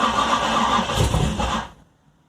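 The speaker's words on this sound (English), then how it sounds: "first crank. Let's see how it goes." A Nissan VG30 engine in a 1986 300ZX (Z31) cranks loudly for a first start after a motor swap, a brief roughly 1.7-second burst that cuts off abruptly, followed by near silence.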